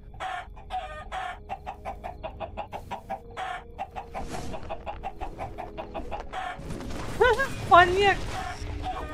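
A chicken in an animated Minecraft-style video game clucks in quick, even bursts for several seconds over a constant background hum. Denser noise and squeaky high cries then take over near the end.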